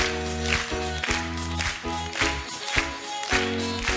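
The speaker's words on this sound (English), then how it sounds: "Clap your hands here." Children and a family concert audience clap along in rhythm to a lively stage song, steady regular claps under loud music.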